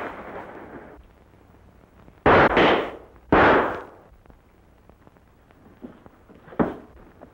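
Two loud, close gunshots from blank rounds in a 1943 Western crack out about a second apart, then a third softer report, all over a low background hiss.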